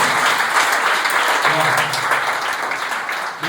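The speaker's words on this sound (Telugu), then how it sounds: "clap now, clap now" A youth audience at a parish gathering claps together, giving a loud, continuous wash of many hands that stays at an even level throughout and eases slightly at the end.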